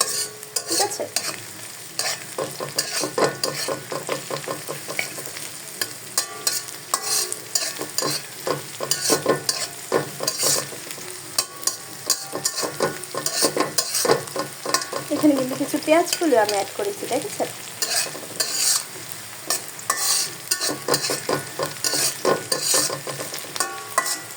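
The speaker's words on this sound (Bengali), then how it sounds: "তো পেঁয়াজটা আরেকটু ভেজে নিতে হবে ব্রাউন কালার হওয়ার আগ পর্যন্ত" Onions frying in oil in a pan for a Bengali magur catfish curry, a steady crackling sizzle with frequent scraping stirs throughout, close and fairly loud, no talking.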